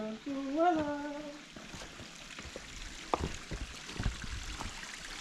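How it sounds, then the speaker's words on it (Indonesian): A small stream trickles and splashes softly on a trail near an old landslide on the way to Wae Rebo, a faint steady flow after a brief voice-like tonal sound at the start. "ketemu sungai kecil"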